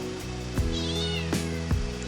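A cat meows three times in short, clear, evenly spaced calls close by, over a steady low hum in a kitchen where mung bean stew with squash is cooking.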